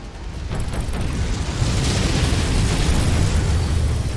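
Missile explosions in MechWarrior 5 make a loud, rumbling burst of booms and crackling debris that builds and stays heavy for several seconds.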